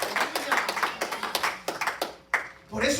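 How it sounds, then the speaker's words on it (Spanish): Church congregation clapping during a sermon: uneven, fairly close claps from a gathering of worshippers, with voices and a lull before the clapping picks up again. "Si ese aplauso para el Señor, dáselo más fuerte, que llegue a la presencia de Dios."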